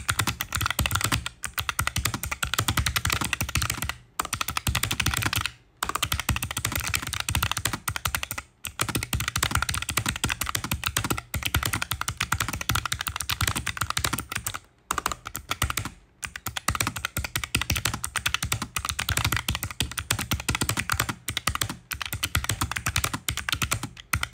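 Steady casual typing on a small netbook keyboard during a typing test, a dense run of close, clacking keystrokes with only brief pauses and no speech.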